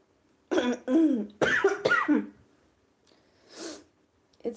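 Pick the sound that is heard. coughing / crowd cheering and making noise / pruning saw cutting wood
coughing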